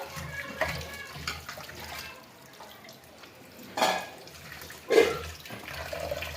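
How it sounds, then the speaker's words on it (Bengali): Water splashes and drips in irregular bursts, with a few sharper sloshes as beef is rinsed under running water close by. "এখন গরুর মাংসগুলো ধুয়ে দিচ্ছি"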